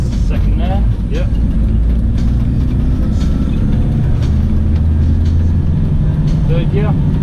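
A manual car is driven on a town road while gears are changed, the steady engine drone and road rumble loud and close inside the cabin with brief shifts in pitch, and people talk over it.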